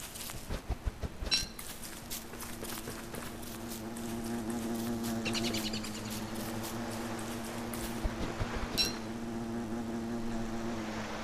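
A game bee from Don't Starve gives a thin droning buzz over a steady low hum, with clicky footstep-like taps and short bright chimes scattered through and no voices.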